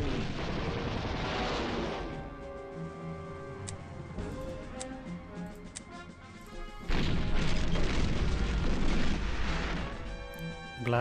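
Bomber attack explosions in the World War II strategy game Panzer General II, crashing blasts layered over ticking effects and game music, with a louder burst of impacts in the latter half.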